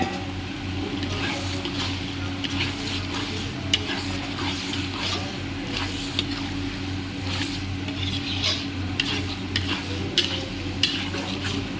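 Mutton pieces sizzle loudly in spice masala, a dense continuous frying hiss with a low rumbling hum beneath and scattered scrapes of stirring throughout, no talking.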